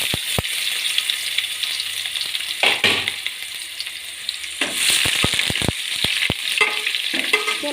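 Onions sizzling and frying in a kadai pan, a steady loud crackle with sharp scraping stirs and spatula clicks breaking through at intervals.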